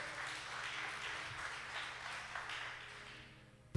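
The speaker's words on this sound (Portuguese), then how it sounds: "Você pode aplaudir o Senhor Deus" A church congregation applauds in a broad, diffuse wash of clapping at a moderate distance, steady for a few seconds before tapering off, ending with a sharp knock.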